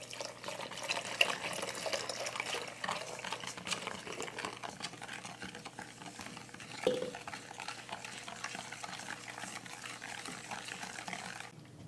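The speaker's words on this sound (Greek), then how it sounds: "Ανακατεύουμε να διαλυθούν τα υλικά." Syrup of sugar, cocoa, coffee and water being stirred in a pot for a tiramisu chocolate pie, a steady scraping swish of spoon against the pan with liquid sloshing throughout, close and fairly quiet, one brief louder knock midway.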